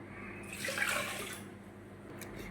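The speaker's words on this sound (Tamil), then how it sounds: "நம்ம சாம்பாருக்கு எந்த அளவுக்கு தண்ணி வேணுமோ அந்த அளவுக்கு தண்ணி தான் நம்ம இப்போ சேர்க்க போகிறோம்" Water poured into a pot of sambar while cooking, a soft rushing splash that swells briefly and then settles into a quiet background hum.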